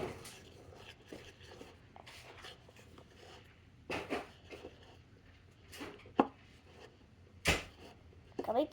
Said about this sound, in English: You stir it for 2 minutes.